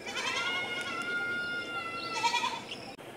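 Goats bleat while being given feed in a rural yard, with a drawn-out nasal call followed by more bleats, moderately close over soft outdoor background noise.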